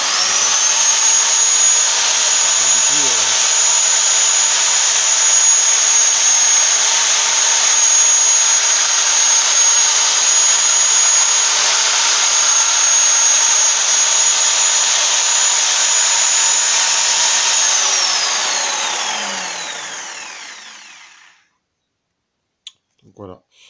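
A disc sander driven by a power drill whines steadily at high speed for about twenty seconds, then spins down and stops, leaving a few small knocks.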